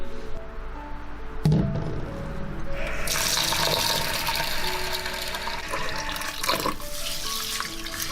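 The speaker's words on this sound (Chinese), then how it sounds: "清洗一遍，然后再用清水浸泡2个小时以上" Red-skinned peanuts, red beans and black glutinous rice are rinsed under running water, a steady close splashing and pouring from a tap with a sharp knock near the start.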